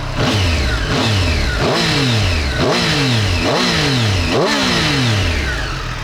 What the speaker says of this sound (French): Mais écoute-moi cette mise en régime.